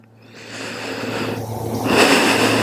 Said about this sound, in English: let's steady that breathing and just slow everything down